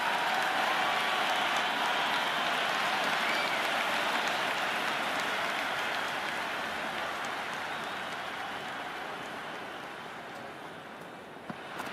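A cricket stadium crowd in the stands gives off a steady, distant roar of cheering and buzz that holds for many seconds and fades slightly at the end.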